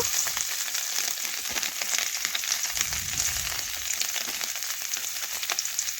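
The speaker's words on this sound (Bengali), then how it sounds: "দেখুন আবারও সাদা তেল দিলাম, আলু গাজর তুলে নিয়ে এখন সোয়াবিন একটু ভেজে নিচ্ছি।" Soybean chunks fry in white cooking oil in a pan, producing a continuous dense crackling sizzle with scattered sharper pops, steady and close throughout with no speech.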